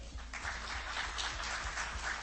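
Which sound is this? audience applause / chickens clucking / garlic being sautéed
audience applause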